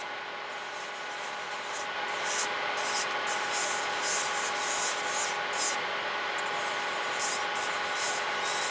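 Continuous high, gritty whir of an electric nail file grinding away old gel nail product, a steady close buzz with rapid scratchy pulses as the bit works the nail.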